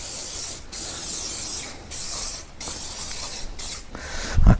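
Close, steady hiss of an aerosol cleaner sprayed onto the front brake disc and pads of a Honda Transalp 600 motorcycle, in several sustained bursts with short breaks, then a brief clunk at the end.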